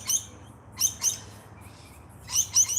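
Wild parrot-family birds chirp in a few short, high bursts, one pair early and another pair near the end, with quiet gaps between and a low steady hum underneath.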